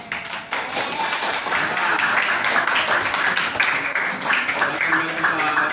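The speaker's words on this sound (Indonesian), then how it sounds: "Tepuk tangan dulu semuanya." A classroom of students claps together in a loud, sustained burst of many hands, with some talking mixed in under the clapping.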